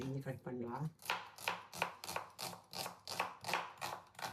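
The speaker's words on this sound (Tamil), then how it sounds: "இன்னும் நைஸா கட் பண்ணிட்டு இருக்கோம்." Knife chopping onion on a board, a fast even run of about a dozen crisp, close thuds following a brief murmur at the start.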